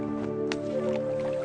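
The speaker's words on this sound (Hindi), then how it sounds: "अब आप इन दोनों घड़ों को पानी में डाल दीजिए।" Two clay pots lowered into water give a brief, soft squishing gurgle of liquid, heard close and fairly quiet over a steady musical drone.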